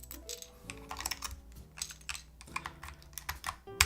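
Typing on a NAJA 68 mechanical keyboard fitted with stock keycaps, a quick irregular run of crisp, clacky keystrokes up close, faint and steady with brief pauses between bursts.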